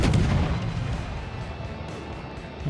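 A warship's gun salvo in the naval combat game World of Warships booms loud and close, a heavy blast with a long rumbling decay that fades away with no talk over it.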